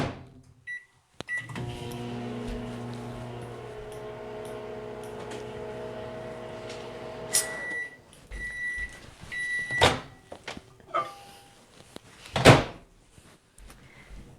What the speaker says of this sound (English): we're going to stick that in the microwave for about 5 seconds